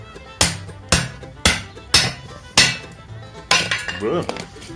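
Six sharp metallic strikes at a steady rhythm, a 5-pound hammer driving a kindling splitter into wood, loud and close, with a brief crackle of splitting afterward.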